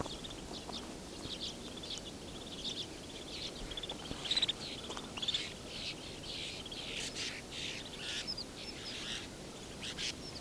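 Redpolls give short chirping calls amid a flock of snow buntings outdoors in a quiet winter setting, with soft scattered twitters and a few sharper calls near the middle over a steady faint background hiss.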